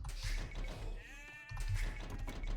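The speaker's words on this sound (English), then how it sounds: "We're going to task our villagers to the sheep." Sheep bleat in the Age of Empires strategy game: a quiet, wavering game bleat sits over steady low in-game ambience.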